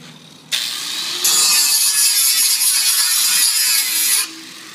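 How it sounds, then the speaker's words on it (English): An angle grinder on aluminum scrap metal at a scrap yard: the motor spins up, then the disc bites into the metal with a loud, steady, high-pitched grinding whine for about three seconds before dropping back to a lower idle hum. "when you take the grinder to something like aluminum, you're going to have no spark"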